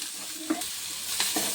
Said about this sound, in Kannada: ಚೆಂದಾಗಿ ಫ್ರೈ ಆಗ್ತದ್ರೆಲ್ಲ